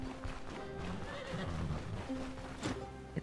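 Horse in the video game Stoneshard whinnying over a continuous bed of game ambience and hoofbeats, moderately faint, with a brief louder knock near the end.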